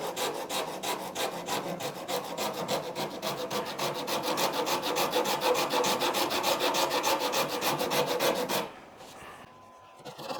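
A Shinto rasp shapes a wooden guitar body in rapid, even rasping strokes, loud and close, several per second for about eight seconds before stopping abruptly.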